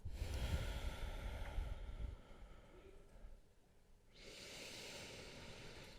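Breathing during a yoga practice, a couple of close, deep breaths with a heavier rushing exhale, then a pause and a steady soft airy sound, no talk.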